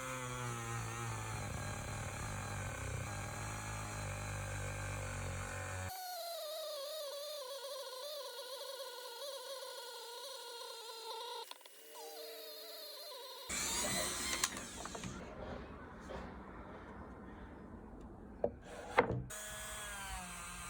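A Dremel rotary tool sanding and polishing a wood and epoxy river charcuterie board, giving a continuous whining hum that shifts in pitch as the tool changes speed and contact, with brief scraping bursts toward the end.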